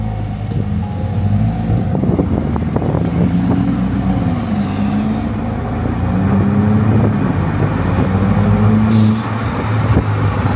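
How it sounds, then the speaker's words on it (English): A modified Mercedes-Benz engine drones steadily with a deep, throaty intake note that holds for the whole stretch, loud and close, with no voices. "I like those intake noises as well"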